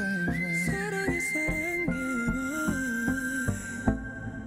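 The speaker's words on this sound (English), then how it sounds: "Yeah, I love that whistle." A whistle melody in the chorus of a K-pop song, gliding between sustained notes over a steady drum beat and backing instruments, loud and continuous throughout with no talking.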